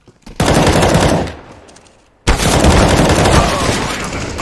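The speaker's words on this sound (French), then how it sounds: "Mets-lui une balle dans la tête." Loud, close bursts of rapid automatic gunfire in a video game, one sustained volley that fades, then a sharp restart into another long continuous burst.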